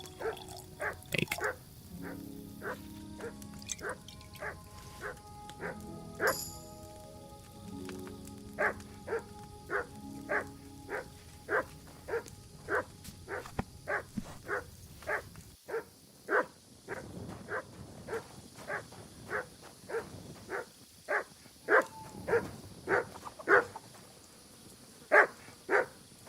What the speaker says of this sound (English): Not a dead dog.